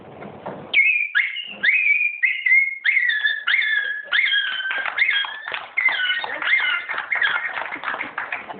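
A beatboxer vocally imitates a dog yelping in pain after being hit by a stone, a run of sharp, high, whistle-like yelps and whimpers repeating rapidly and close up.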